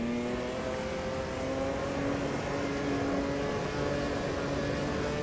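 Race car engine in the sim racing game Automobilista 2, a steady loud engine drone with sustained tonal whine that rises slightly, continuous throughout with no speech.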